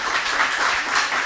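A crowd at a school quiz contest applauds as a student walks up, a short, continuous burst of many people clapping at a steady, moderate level.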